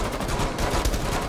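Rapid automatic gunfire in Rainbow Six Siege, a dense, continuous burst of shots that stays loud and close for the whole stretch, with no voices over it.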